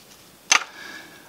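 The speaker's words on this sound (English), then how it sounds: "I just hit the camera." A single sharp knock against a camera during a Nerf Hammershot painting and sanding session in a workshop, one brief loud thud followed by quiet room tone.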